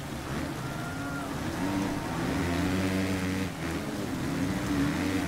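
Steady rain hiss mixed with a droning motocross bike engine in the MXGP3 video game, a continuous wash of noise with a rising and falling motor tone.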